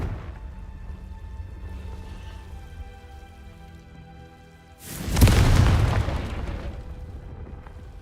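Confringo fire spell in Hogwarts Legacy, a sudden loud fiery blast that bursts in after a quiet ambient hum, roaring with a deep rumble and crackle for about two seconds before slowly fading.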